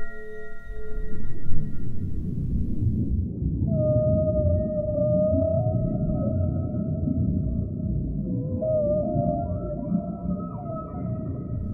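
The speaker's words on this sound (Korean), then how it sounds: "녹음된 고래의 노래를 듣는다는 것은" Recorded whale song from the ocean, a continuous stretch of tonal calls that drift and bend upward over a dense, rumbling underwater noise bed, loud and unbroken, with no voices present.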